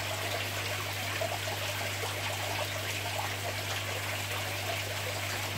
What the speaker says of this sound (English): Doesn't take long to get 25 litres out with this little hose pipe.